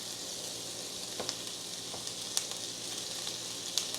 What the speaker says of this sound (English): I want the onions to sizzle before I throw the spam into it.